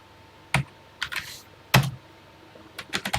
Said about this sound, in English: I'm going to type it exactly as written.